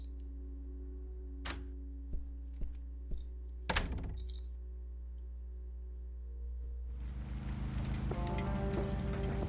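Rain pours down in the point-and-click adventure game Kathy Rain, a steady hiss rising after a few soft thuds and clicks over a low ambient drone, with faint music-like tones underneath.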